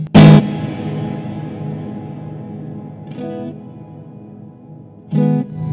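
Distorted electric guitar through a fuzz pedal with heavy reverb: a few hard-picked chords ring out and decay into a long, washy tail, with no voices.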